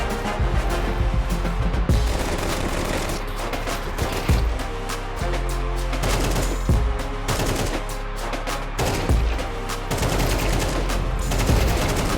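Counter-Strike match gunfire: repeated sharp rifle shots and short bursts cracking through a loud, busy mix of game sounds, with scattered single shots and quick rattling volleys spread over the whole stretch.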